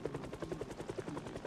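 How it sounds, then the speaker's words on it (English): Helicopter in the video game Project Zomboid, a fast rhythmic rotor thumping at a steady pulse, fairly faint and unaccompanied by talk. "there's definitely an advantage to use the noise of the helicopter in that way"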